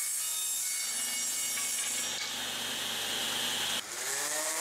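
Steady, continuous whine of a power saw ripping a wooden board to width for a coat rack, loud and close, with a brief dip near the end before the blade bites again.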